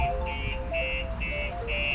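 A StarLine S9 aftermarket alarm going off on a 2021 VW ID.3 electric car, a loud, steady repeating electronic beep pattern of high tones in regular pulses throughout.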